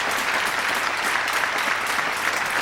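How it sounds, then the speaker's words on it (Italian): A concert audience applauds their director at a 2007 show: dense, steady clapping from a large crowd that holds an even level for the whole stretch. "Per lui un applauso."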